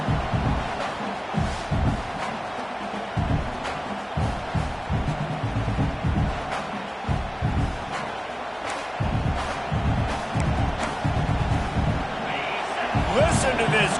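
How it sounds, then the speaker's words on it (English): A large LSU college football stadium crowd roars continuously during a game against Louisiana Tech, with loud cheering and thumping impacts throughout, and a voice talking over the din. "Listen to this crowd just shaking the girders of this place, trying to help their defense."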